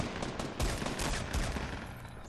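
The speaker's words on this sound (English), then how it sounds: "They're shooting at other people too." Gunfire in the Fortnite battle royale video game, a dense run of rapid overlapping shots with several heavier thumps, loud and continuous with no pause.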